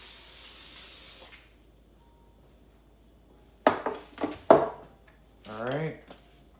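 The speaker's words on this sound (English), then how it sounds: "Hit it with some more nonstick" Nonstick cooking spray hisses from a can onto a baking sheet, a steady burst lasting about a second, followed by clinks of pans and kitchen handling.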